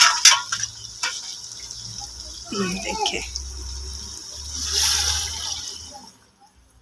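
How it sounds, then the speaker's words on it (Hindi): Water from a bowl pours into a cooking pot holding rice and prepared masala, a splashing gush in the middle that tails off into trickling, while someone talks over it. "पानी जो है ये देखिए मैंने डाल दिया है चार कटोरे पूरे"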